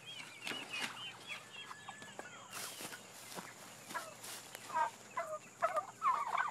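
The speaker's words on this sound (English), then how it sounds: "Here we have some punk-ass turkeys." Turkeys gobble in bursts, several birds nearby, with scattered rustling and footsteps between the calls.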